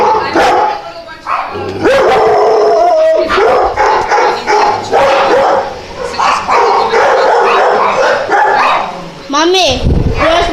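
Several dogs bark and yip in loud, rapid overlapping bursts, some high-pitched and some howling or whimpering, close by, with people talking over the barking.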